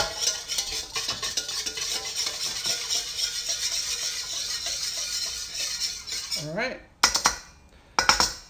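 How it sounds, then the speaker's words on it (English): A wire whisk beats a lemon vinaigrette in a bowl, giving rapid continuous clinking and scraping for several seconds, close and fairly loud, before a brief voice and a couple of final clinks. "I'm going to use my whisk"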